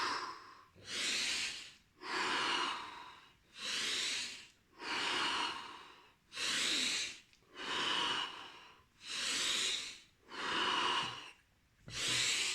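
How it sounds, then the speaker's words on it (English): Deep rhythmic breathing in the Wim Hof technique, about eight full, even breaths in and out in steady cycles, close and fairly loud, with no talking. "Wim Hof just says, just breathe deeply"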